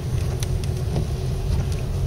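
A car rolls through a 25 mph school zone, its steady road rumble and tire noise filling the cabin with a continuous low drone and a few faint ticks.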